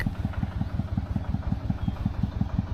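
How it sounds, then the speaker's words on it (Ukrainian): A Shifeng 240 tractor engine driving a DTZ FN-1.3 rotary tiller, chugging and rattling nearby in a fast, even rhythm, steady throughout with no voices. "Бо трактор торохтить."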